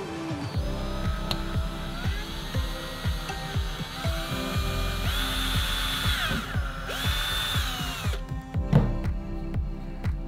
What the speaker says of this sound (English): we're just going to drill through the plastic